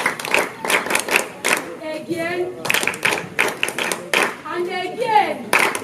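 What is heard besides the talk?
children clapping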